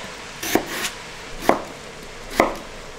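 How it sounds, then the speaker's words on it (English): A knife chops a potato into inch-and-a-half cubes for leek and potato soup: four close, sharp board strikes in an uneven rhythm, with no talking. "I'm just going to chop up my potato into one and a half inch cubes"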